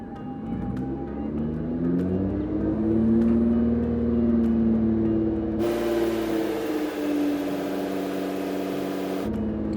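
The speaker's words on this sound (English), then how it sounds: "So now that it's in first gear, we are going to accelerate it all the way to 2000 RPMs slowly," A Nissan GT-R engine revs slowly up to 2000 RPM in first gear and holds there, a loud, close, steady engine drone that rises smoothly in pitch, then a harsher broadband roar joins for a few seconds.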